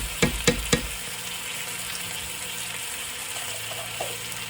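Four teaspoonfuls of garlic fry in a pan of jarred curry sauce with a constant bubbling sizzle, opened by three quick knocks of a spoon against the pan.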